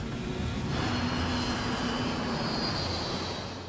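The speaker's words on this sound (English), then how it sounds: "The sound at first was just a normal airplane flying above." A steady airplane engine roar drones overhead, loud and continuous, with a faint tonal whine rising partway through.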